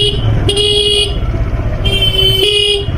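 Two short horn toots from a vehicle on a winding village road, loud and close, over the continuous engine drone of a moving motorbike.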